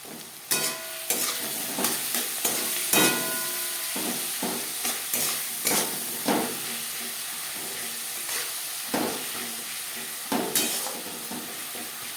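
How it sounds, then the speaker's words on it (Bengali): Spice paste of ginger and green chilli with salt and turmeric is stirred into onion and tomato frying in a pan. A constant sizzle runs under repeated scraping and clattering strokes of the spoon at an uneven pace. "পেঁয়াজ টমেটোর সাথে বেশ ভালো করে মিক্স করে দেবো।"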